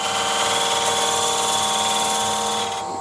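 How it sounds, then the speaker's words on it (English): A skew chisel scrapes wood on a spinning lathe, cutting behind a bead on a candlestick with a captive ring, giving a steady dense whirring rasp over a motor hum that fades slightly at the end. "just basically scraping motion just with the point of the skew just going in"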